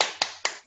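Schoolchildren in an Indonesian classroom doing a spirit clap in unison: three sharp, close group claps in a quick rhythm, each a crisp burst followed by a short fade, with no talk over them.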